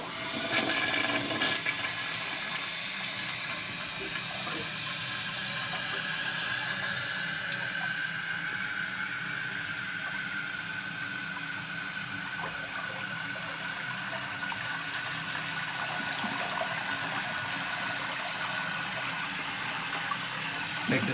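A household toilet flushes nearby, a loud continuous rush of water that gushes and then settles into a steady refill hiss lasting about twenty seconds, with no voices.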